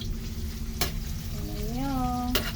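Food sautés in a hot pan at home, a loud, steady sizzle close by, broken by a couple of sharp scraping strokes from stirring.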